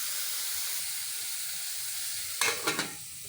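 Cauliflower cooks in a covered pan with a steady, soft sizzle and hiss. Near the end, three quick clattering knocks break through, as from the lid or a utensil.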